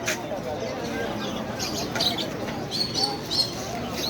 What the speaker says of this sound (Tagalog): Yan, dami lang ibon dito.